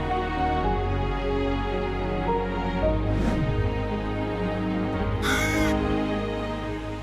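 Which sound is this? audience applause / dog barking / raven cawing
raven cawing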